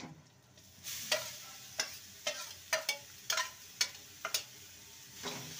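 Grated carrot and potato stirred in a frying pan: a soft sizzle underneath with a series of sharp spatula scrapes and taps, roughly seven strokes at irregular intervals, close and moderately loud, no talking.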